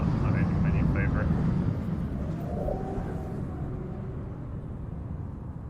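A ship in the Star Citizen space game flies past with a loud, broad engine rumble and a sweeping whine that rises and fades over a few seconds.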